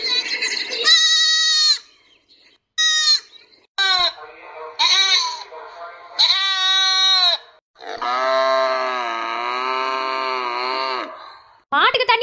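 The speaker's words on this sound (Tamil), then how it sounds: "ஆட்டுக்குட்டி வேற கத்திக்கிருக்கு பாவம்" A young goat kid bleats repeatedly and loudly, with long wavering cries separated by short pauses, close to the listener.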